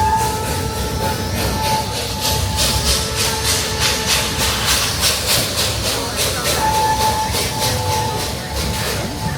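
A steam train running through the redwood forest in Santa Cruz, California chuffs in loud, rhythmic bursts of hissing exhaust over a steady rumble, with intermittent whistle-like tones heard up close.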